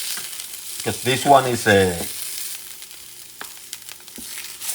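Liver pieces for liver with onions sizzle gently in a pan, a low steady frying hiss that continues on its own after a brief spoken remark near the start.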